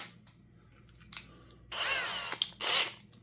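A power drill porting a Husqvarna 334T trimmer engine whirs in two loud, high-pitched bursts after quiet clicks and handling noises, close up with no talk.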